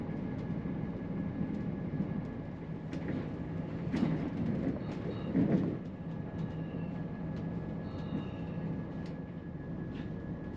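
A passenger train runs along the line descending toward Inverness from the Aviemore direction, joining the Aberdeen line by the Moray Firth; a steady low rumble with a constant tone above it and a few faint clicks, no talk.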